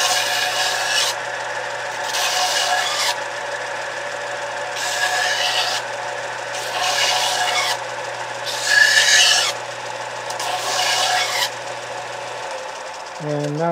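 A survival knife edge is ground on both sides, giving repeated rasping passes in bursts about every two seconds, steady and close, with a faint low hum underneath.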